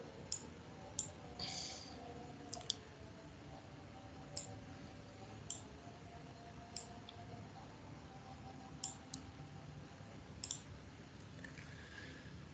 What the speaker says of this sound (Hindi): मैं इस क्लास को डबल क्लिक करता हूँ